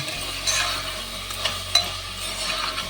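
A spoon stirs and scrapes ginger-garlic paste frying in a pan for pulao, a soft continuous sizzle broken by a few sharper scraping knocks, close by and with no talking.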